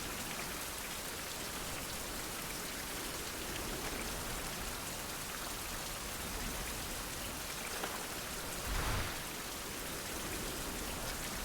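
Steady rain falls in the survival video game Fountain of Youth, a dense, even hiss of drops on surfaces that continues unbroken and evenly loud, with no voices.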